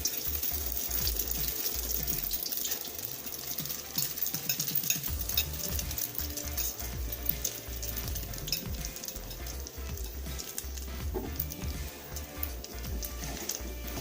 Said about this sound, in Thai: เราใส่ไข่ลงไปเลยนะครับ